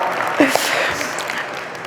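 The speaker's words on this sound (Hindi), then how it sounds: "जोरदार तालियां खुद के लिए।" Audience applause at a motivational speech, a brief burst of clapping from a crowd under a voice speaking over it.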